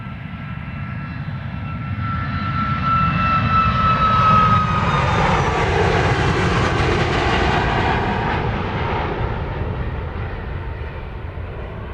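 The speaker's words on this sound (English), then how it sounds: "It's off to Oklahoma City, Josh Aldrich territory, flight 2092, a MAX 8." A Boeing 737 MAX 8 takes off from Dallas Love Field bound for Oklahoma City, its jet roar rising to a loud peak midway with a whining engine tone sweeping past, then fading slightly as it climbs away.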